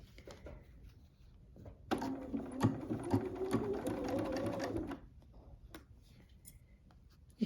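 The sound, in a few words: sewing machine stitching quilt binding seam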